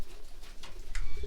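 Pet doves give a low, soft coo, with a couple of brief murmured pulses over faint background noise, close by and quiet.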